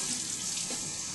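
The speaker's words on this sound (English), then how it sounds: "the last thing I do is add a little bit of water, which I'm thinking maybe 1/4 of a cup" Water poured from a tap into a bowl of meatball mixture, roughly a quarter cup, a steady close splashing stream lasting about a second with no talk.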